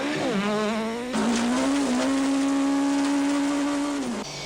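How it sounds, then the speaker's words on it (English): Class A8 Golf rally car in Tour Natal 2002 driving on a damaged left front tyre, its engine loud and close with a sustained rising and falling whine as it rounds a corner, revs shifting before a steady high-pitched drone. "Have a look at Habich's damaged left front tyre as he rounds the corner, desperate to keep going until the end of the stage."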